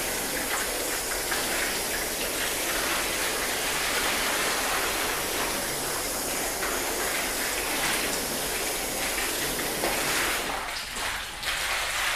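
Steady broadband hiss of a garden hose on a fine mist setting rinsing a sealant-coated car, continuous and close throughout with a brief dip near the end.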